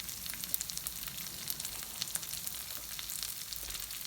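Lentil curry sizzles and fries in a pan while it is stirred, a steady, quiet crackle with faint scraping and no voices.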